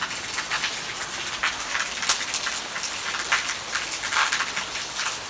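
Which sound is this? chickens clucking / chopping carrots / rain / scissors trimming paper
rain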